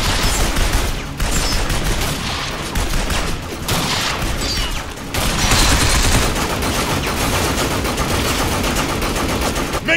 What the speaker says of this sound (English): Maintain heavy fire! We can't let them pass!